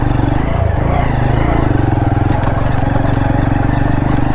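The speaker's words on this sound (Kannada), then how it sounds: "ಈಗ ಬರ್ತಾಯಿದೆ ಬೈಕ್ಗಳು" Motorbikes, including a TVS Apache 200, rumble close by on an off-road trail at Mandalpatti in Coorg, with a loud, steady engine drone and a constant low throb.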